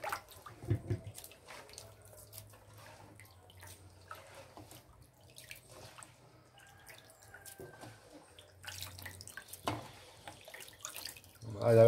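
Callaloo greens rinsed under a running kitchen tap, a steady low water rush with splashing and dripping bursts near the start and end, moderately close.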